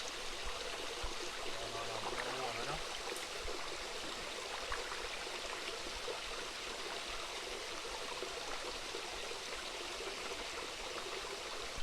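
Natural spring water flows at Nanny Falls in Moore Town, Portland, Jamaica, as a soft, continuous rushing hiss that stays even and fairly faint the whole time, with no voices.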